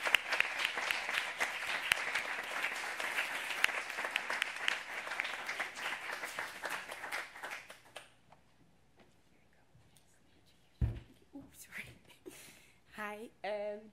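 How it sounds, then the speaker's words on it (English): Audience applause for an award winner at an open science awards ceremony, dense clapping for about eight seconds before fading, followed by a quiet pause and then a person starting to speak. "So an applause for her."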